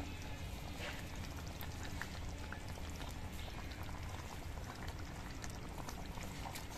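A boiling squash and potato curry with chopped coriander leaves being added bubbles and simmers steadily, a dense, continuous wet bubbling with no one talking.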